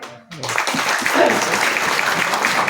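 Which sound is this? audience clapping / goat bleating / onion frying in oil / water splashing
audience clapping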